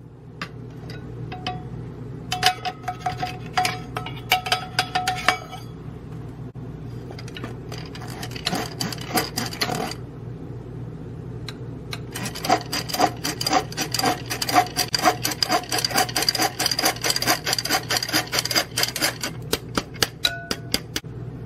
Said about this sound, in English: Sift one cup of all-purpose flour.